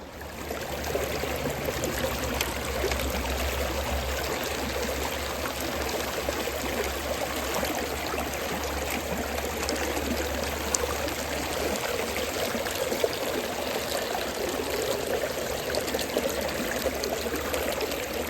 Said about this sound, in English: Sluice is running perfectly.